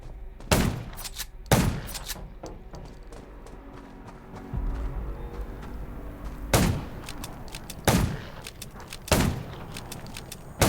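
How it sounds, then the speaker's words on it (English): Gunfire in the zombie survival video game Undawn: six loud, sharp shots in uneven bursts, with a low rumble and faint ambient noise in the gaps. "Gunshots will attract more zombies."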